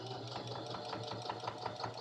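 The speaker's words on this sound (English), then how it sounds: "make sure that I sew it shut" A sewing machine stitches a fabric bowl cozy shut, its needle hammering in a quick, even rhythm close by at a low, steady volume.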